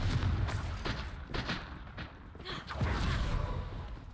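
Confringo fire spells in Hogwarts Legacy crack out as a series of short, punchy blasts, several distinct bursts spaced about half a second apart over a low rumble, with a faint voice at times.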